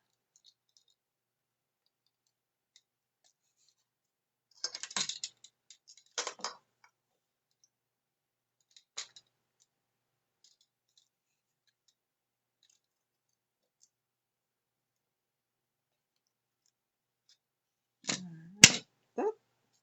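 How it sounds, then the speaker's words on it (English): Small plant stems snipped off for a cyanotype sun print, heard as a few sharp clicks and snips in scattered bursts against near silence, with a louder cluster of cuts near the end. "Cut these little stems off."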